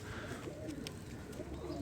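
A very heavy male pigeon coos while held in someone's hand, soft low murmuring calls faint and close.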